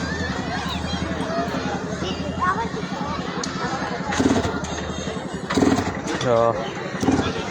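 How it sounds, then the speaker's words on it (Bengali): A motorcycle runs inside a pit-wall arena at a large trade fair. Its engine rumbles underneath and swells in three revving bursts, mostly under continuous nearby talking and crowd noise. "এই গর্ত থেকে বেয়ে এই মোটর সাইকেলটি উঠবে"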